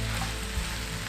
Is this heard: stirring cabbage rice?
yes